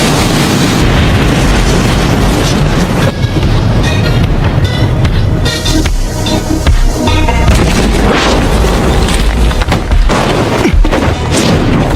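A Fire Style jutsu explosion from the Naruto Shippuden anime roars as a loud, sustained blast, a dense rumbling boom that fills the whole stretch without pause.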